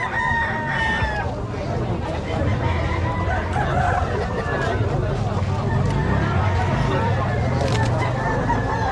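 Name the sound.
roosters crowing at a chicken market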